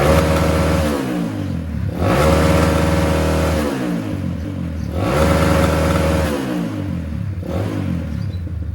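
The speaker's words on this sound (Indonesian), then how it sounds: "Kita akan tes untuk RPM tengah ke atas sampai limit ya." A motorcycle engine fitted with a PWK racing carburetor revs hard toward a 9000 RPM limiter in repeated loud, close bursts, climbing and falling back several times with no talk over it.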